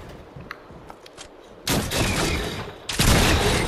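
Rapid bursts of gunfire in the Fortnite video game, a dense volley erupting partway through and a second loud burst following moments later, with no talk over it.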